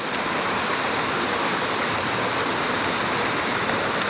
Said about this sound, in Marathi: झरणा झाला तिकडे बघ.